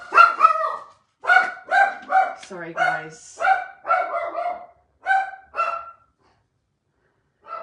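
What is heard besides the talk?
dog barking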